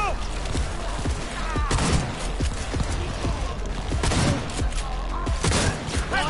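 Shotgun fire in the video game Cyberpunk, several sharp blasts scattered through dense in-game action, with a voice talking over the gameplay.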